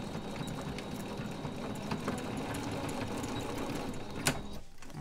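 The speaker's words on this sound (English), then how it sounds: "Machines do not like to stitch on Velcro." A sewing machine stitches through Velcro, a steady, close mechanical whirr of the needle running continuously, ending with a sharp click as it stops.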